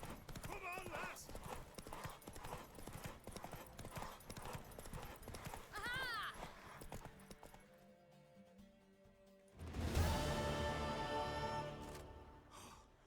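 Rapid clip-clop of horse hooves galloping in The Witcher 3 under continuous talking and shouting, with a louder burst of crowd noise near the end.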